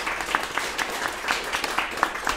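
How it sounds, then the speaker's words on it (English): Audience applause at a live panel event, a steady patter of many hands clapping at moderate volume with no talk over it. "Nice little clap."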